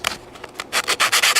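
Fine 600–800 grit sandpaper rubbed over a chain sprocket to remove a burr on a 1970 Rupp minibike with a Roma Nova engine, a series of close, loud, rhythmic scrubbing strokes that quicken and strengthen toward the end, with no talking.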